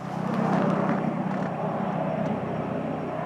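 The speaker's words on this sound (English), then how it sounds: "We got a helicopter now." A helicopter drones steadily overhead, a low rumbling engine with faint rotor chop, moderately distant and continuous.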